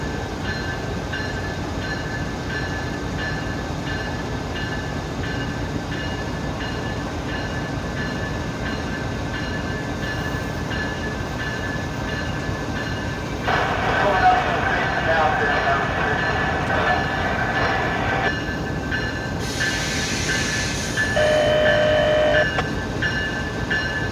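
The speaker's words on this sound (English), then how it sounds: "And it started pulling into the station to pick up passengers." Freight or passenger train pulling slowly into a station, a steady low rumble of rolling cars with squealing brakes and metallic tones rising in the second half, the run continuous and moderately close.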